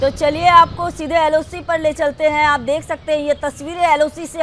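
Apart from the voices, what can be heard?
No distinct noise like a dog, phone or traffic.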